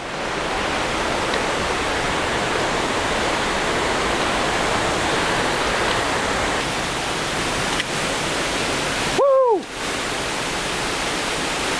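A waterfall at Silver Falls State Park roars as a steady, dense rush of falling water, loud and close, unbroken throughout apart from a brief interruption near the end.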